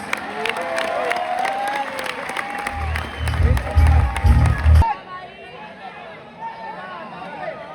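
Crowd applause and cheering at a commercial kabaddi match, clapping and shouts mixed with a commentator's voice and heavy low thumps midway, then cutting off abruptly to quieter crowd murmur.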